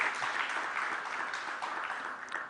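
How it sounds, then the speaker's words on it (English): Audience applause at a round table event, a dense, even wash of many hands clapping together. It holds at a steady level for the whole short stretch. "I think they deserve a better round of applause."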